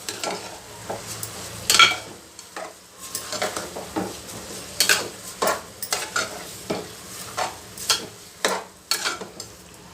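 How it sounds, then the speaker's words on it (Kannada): Washed rice fries in oil for carrot pulao, with a low sizzle under repeated rhythmic scraping and clattering of a spoon against the pan, close and fairly loud. "ಎಣ್ಣೆಯಲ್ಲಿ ಒಂದು ಸ್ವಲ್ಪ ಫ್ರೈ ಮಾಡಬೇಕು ಈಗ ತೊಳೆದಿರೋ ಅಂಥ ಅಕ್ಕಿ ಸೇರಿಸ್ತೀವಿ"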